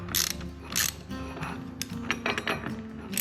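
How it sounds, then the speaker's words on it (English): Ratchet wrench with a 1/2 inch socket tightening a bolt on climbing stick strap supports, giving quick bursts of rapid clicking separated by brief pauses, close up and fairly quiet. "Just slide that 1/2 inch socket right underneath, tighten it down"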